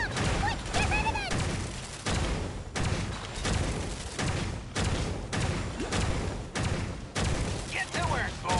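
Explosions and gunfire-like blasts from the video game Genshin Impact, a steady run of booming bursts and crackling impacts across the whole stretch, with game voices calling out over the din.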